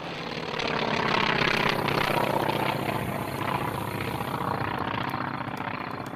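An aircraft swoops back low over a hillside bunker area, its engine roaring loud and steady as it passes close overhead, the drone swelling then easing slightly, with no voices.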